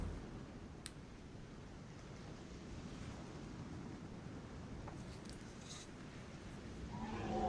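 Steady ocean surf washes and rolls continuously as a sound effect for a read-aloud children's story about a snail and a whale, a soft, even roar with no voices over it.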